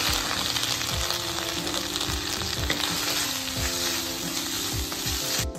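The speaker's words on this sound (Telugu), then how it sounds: "ఇప్పుడు ఇదే నెయ్యిలో ఇంకొక స్పూన్ నెయ్యి వేసుకొని పచ్చి కొబ్బరి వేయించేసుకోవాలి." Grated fresh coconut fries in ghee for beetroot rava laddu, giving a steady close sizzle with a rhythmic series of spoon scrapes against the pan and no voices.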